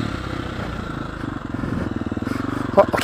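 KTM 350 enduro motorcycle engine on a trail ride, a low pulsing putter at moderate volume that grows more rhythmic, with a brief clatter near the end.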